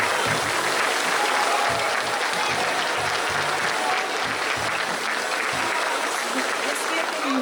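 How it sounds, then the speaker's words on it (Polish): Audience at a boxing gala in Kleczew, Poland, breaks into long, loud applause during an award presentation, a dense and sustained wash of clapping that stays strong throughout, with faint voices underneath. "Wielkie, wielkie, wielkie brawa!"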